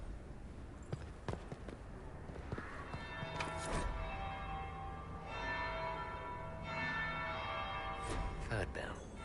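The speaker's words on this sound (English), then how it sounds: "Third bell. Now I'm just plain late." A church bell tolls in Dragon Age: Inquisition with a few resonant ringing strikes over game ambience, along with scattered thumps and clops.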